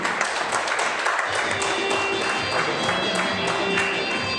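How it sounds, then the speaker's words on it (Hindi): Continuous applause from an audience at a sales seminar, dense overlapping clapping at moderate volume throughout. "तो इनके लिए एक बार जोरदार ताली बजाओ।"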